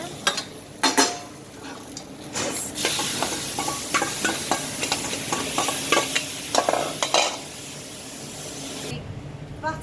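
Vegetables sizzle and fry in butter in a hot pan, a steady crackling hiss broken by sharper bursts as they are stirred and tossed with a utensil, close and fairly loud throughout with no talking.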